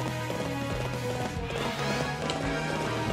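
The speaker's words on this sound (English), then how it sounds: "hoof sounds of Frederick's horse" Rhythmic hoof clip-clops from a horse trotting, steady and fairly close, layered over dense music and effects in the video game Fire Emblem Warriors.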